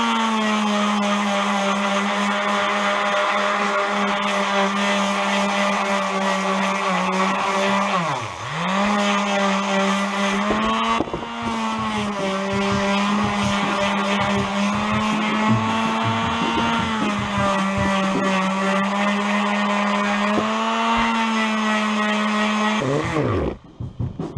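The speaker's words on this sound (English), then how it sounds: "then I'm going to hit it with the sander" A sander works an old Hults Bruk axe head during restoration, giving a steady, loud motor whine that sags briefly in pitch under load around the middle and winds down at the end, with no talking.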